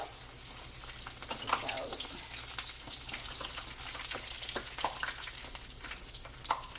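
Apple turnovers fry in hot oil with a steady, soft crackling sizzle throughout, dotted with small pops and a few quiet utensil clicks.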